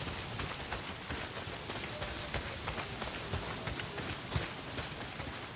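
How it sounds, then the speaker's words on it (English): Rain falls in the video game Days Gone, a faint, steady patter of drops that continues evenly throughout with no voices over it. "not if it's pissing down rain."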